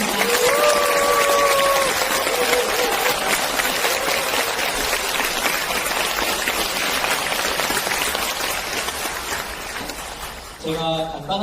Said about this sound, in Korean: 환영과 감사의 큰 박수 다시 한번